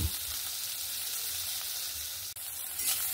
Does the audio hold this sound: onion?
yes